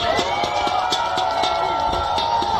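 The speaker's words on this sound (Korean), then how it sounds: "우리 이재명 대표한테 뜨거운 성원의 박수를 부탁합니다" Crowd at Lee Jae-myung's final election campaign rally responds with cheering and rhythmic clapping, a steady roar of many voices punctuated by regular claps at a moderately loud, close level.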